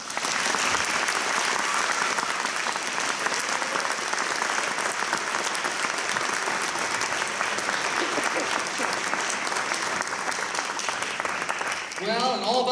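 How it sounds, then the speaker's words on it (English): Audience at a school production of Annie Jr. applauds the directors: sustained, dense clapping from a large crowd fills the whole stretch, steady and loud, tapering slightly at the very end. "So please give them a big round of applause."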